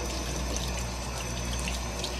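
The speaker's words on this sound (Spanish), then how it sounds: "voy a enjuagar esto, porque sí se me ensució bastante" Running water rinses a makeup brush or sponge, a steady broadband splashing and gurgling hiss that stays constant and close throughout, with no voices.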